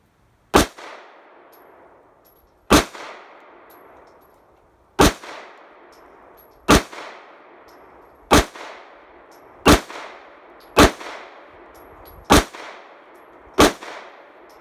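Eight sharp, loud shots from a Smith and Wesson Shield 9mm pistol ring out at a shooting range, each with a short echoing tail, fired at an unhurried, slightly uneven pace of roughly one every one to two seconds.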